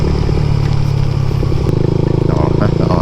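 Two motorcycles riding together in the rain, a loud continuous engine drone with clattering and road noise close by, with voices talking over it.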